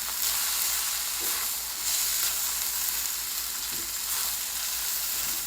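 Fried rice with shrimp and Chinese sausage sizzling steadily in a hot pan, stirred with a few soft scraping sweeps over a continuous close, bright frying hiss.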